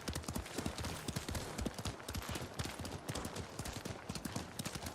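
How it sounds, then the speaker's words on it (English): Horse hooves clip-clop in a quick, steady rhythm as a rider travels along a road in the video game Ghost of Tsushima, each hoofbeat crisp and close over faint background ambience. "really immerses you in the fact that you're riding a horse"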